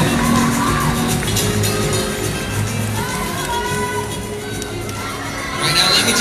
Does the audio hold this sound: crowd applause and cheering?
yes